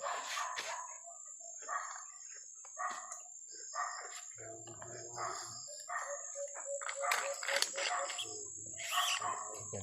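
A dog barks outdoors during a search in a hilly area, with short, sharp barks repeating irregularly at a distance over about ten seconds, mixed with bird calls and some voices.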